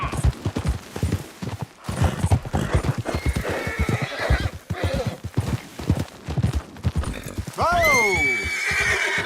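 Horse in the video game Red Dead Redemption 2: hooves clopping steadily under voices talking, then a loud, close neigh near the end.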